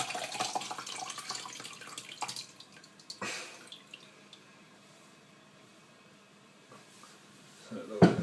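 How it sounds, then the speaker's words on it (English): Bone broth is tipped through a sieve into a bowl, giving faint, intermittent dripping and trickling liquid with a brief splash near the end, quiet overall. "Tip it into the sieve, so obviously any extra little bits are taken out."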